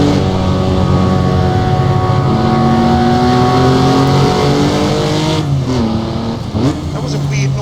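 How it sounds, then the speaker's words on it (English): A loud, sustained high-revving Lamborghini race car engine in a racing video game drones steadily, with pitch shifts as it changes gear, under faint talk. "That was a weird noise. I think that was a Lamborghini."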